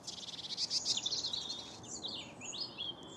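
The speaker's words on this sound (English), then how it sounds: "3 robins chatting to each other." Three robins chirp and twitter back and forth, high and bright, with quick repeated notes and no talking.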